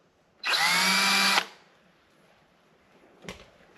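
A power drill whirs loudly for about a second as it bores into a new hole, cutting off sharply, followed by quiet and a brief clatter near the end.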